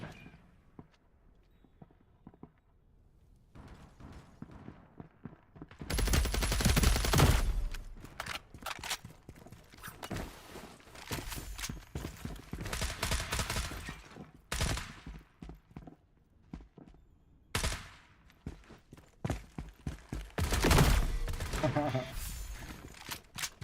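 Hip-fire gunshots in the video game FragPunk come as a few loud rapid bursts with quieter shots and footsteps between them, and a voice is heard at times.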